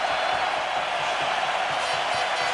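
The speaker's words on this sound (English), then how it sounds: "Let's listen to this crowd." Steady roar of a large hockey arena crowd cheering and applauding at a 2004 World Cup of Hockey game between Canada and Slovakia, dense and sustained with no letup.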